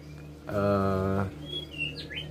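A white-rumped shama (murai batu) singing: a loud, rich harmonic phrase, then a few short high whistles that rise and fall, all close by.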